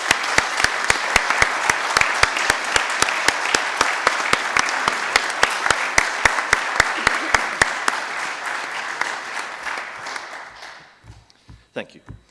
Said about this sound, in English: I wonder, colleagues, if we might give our departing Chief Executive a round of applause.